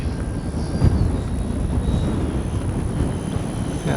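Steady jet engine whine from an FMS 80mm Rafale radio-controlled jet flying in strong wind, blended with heavy wind buffeting the microphone, constant and roaring throughout.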